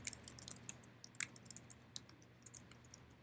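Computer keyboard typing at a desktop terminal: close, crisp key clicks coming in uneven bursts, some keys struck harder than others, with no voices.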